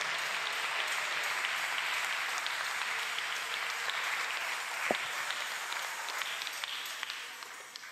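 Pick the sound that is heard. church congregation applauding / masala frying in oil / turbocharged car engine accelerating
church congregation applauding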